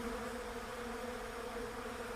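Bees buzzing in a steady, dense insect drone that holds evenly throughout, with no gaps or voices.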